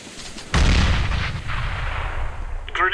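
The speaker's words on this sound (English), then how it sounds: "Grenade out." Grenade exploding in CS:GO: a sudden loud blast after a brief lull, followed by a long rumbling decay and a faint ringing tail.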